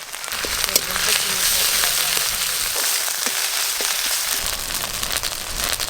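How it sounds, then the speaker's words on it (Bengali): Ginger, garlic and onion paste fries in oil, a continuous crackling sizzle with scattered pops and occasional utensil clinks at moderate loudness. "আদা রসুন পেঁয়াজ একটু ভালো করে ভাজা ভাজা করে নিয়েছি"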